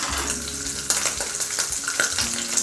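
Liver fries in oil in a pan while being stirred, giving a close, continuous sizzle broken by the scrape and knock of the stirring utensil.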